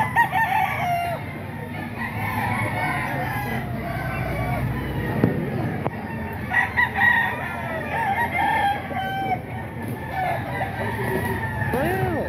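White Kelso gamefowl roosters, about seven months old, crow repeatedly at a market, with several overlapping calls alongside clucking fowl and a busy background murmur.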